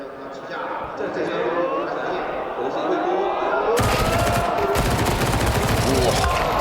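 SMG gunfire rattles in a Counter-Strike professional match at a major tournament, with rapid bursts sounding under continuous esports commentary and growing louder toward the end.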